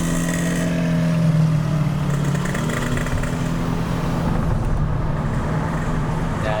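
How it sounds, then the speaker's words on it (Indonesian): A two-stroke Yamaha RX King motorcycle engine drones loudly nearby, a buzzing, rattly roar that shifts pitch slightly as it revs and holds. "Motor-motor 2 tak."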